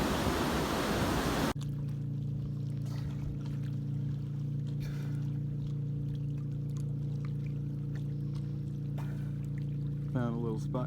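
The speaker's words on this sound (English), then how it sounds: "You can hear the boat over there." A boat motor drones steadily across Lake Como in Montana in summer. The low, continuous hum stays some distance off, after a short burst of wind rumble at the start, and a brief higher warble comes near the end.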